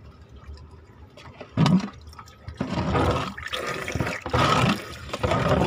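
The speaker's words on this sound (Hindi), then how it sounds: "पानी जा रहा है।" Water drains away across a rooftop in loud, close gushing surges, with short pauses between bursts of rushing flow.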